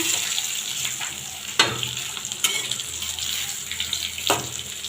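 Eggplant slices fry in hot oil, a continuous close sizzle and crackle with occasional sharper spatters and clatters as pieces are turned.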